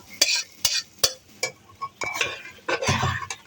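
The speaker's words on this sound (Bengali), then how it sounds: "এখন এটাকে আমি ভাজবো রসুন ডাল বাগার দিলাম" Dal being tempered with garlic in a pan: clattering stirring and scraping strokes with a light sizzle, several sharp utensil knocks early on, then a denser burst of frying toward the end, close by with no talking.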